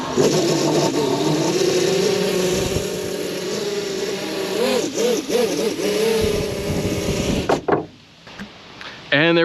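A drone fitted with damaged toroidal propellers hovering in a field, its motors giving a loud, steady buzzing whine that wavers in pitch for several seconds before cutting out abruptly, with a brief knock near the end.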